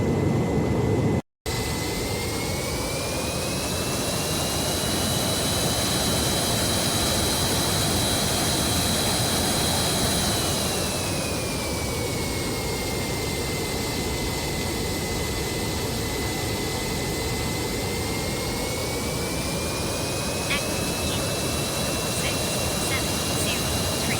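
A jet aircraft taxis toward the runway holding point at an airport, its engines producing a loud, steady turbine roar with a high whine that shifts in pitch partway through, sustained across the whole stretch with faint clicks near the end.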